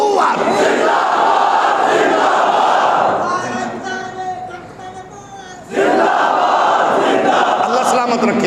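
A large crowd at a religious gathering roars the slogan Tajdar-e-Khatm-e-Nabuwwat in loud unison, swelling, fading briefly, then surging again.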